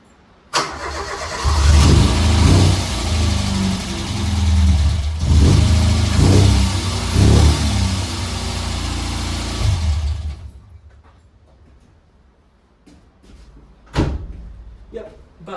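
A Vauxhall Nova engine cranks and catches after a door thud, then idles loudly with several revs for about ten seconds before cutting off, followed by a few clunks and a sharp slam.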